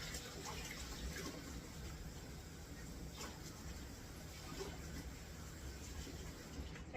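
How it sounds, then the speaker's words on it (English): Cold tap water runs steadily into a container to feed a sourdough starter, a continuous close splashing rush that holds level for several seconds with no talk. "Half a cup of cold water."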